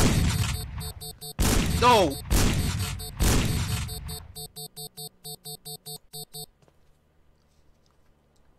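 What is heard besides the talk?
gunshots in the video game Sneak Thief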